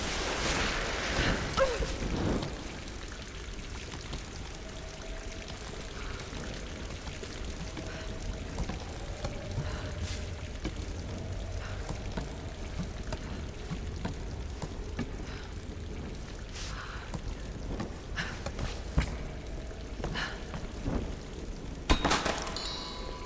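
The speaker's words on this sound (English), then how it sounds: "There's a bunch of water here." Water pouring and splashing in the Tomb Raider video game, a continuous watery rush heard close with a few louder splashes near the start and end, then a faint dark ambience in between.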